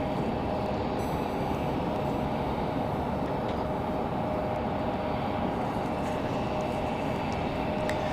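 An Aer Lingus jet airliner at Raleigh-Durham airport on a windy day makes a continuous broadband rumble that stays fairly constant and moderately distant, with no talk.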